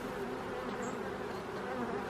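Honeybees hum steadily at an opened hive as it is being prepared for winter. The dense, close buzzing carries on throughout with no talking.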